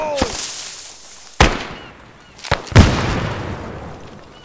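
Sharp blasts and gunfire from a military video game with a grenade thrown, several loud cracks in quick succession and a heavier boom that rumbles on, close by.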